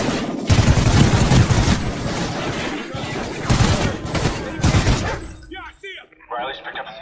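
Gunfire in the video game Call of Duty Modern Warfare, loud sustained bursts of automatic fire and heavy impacts filling most of the clip, followed by fainter clatter and a shout at the end.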